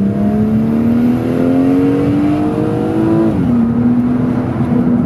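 A BMW M240i engine pulls hard through first gear, its pitch climbing steadily before a brief drop at the shift, loud and close with no talking.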